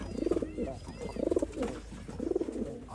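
Old line pigeons cooing in a loft in Bangalore, three rhythmic throaty coo phrases close by, with faint background noise and a voice speaking lightly underneath.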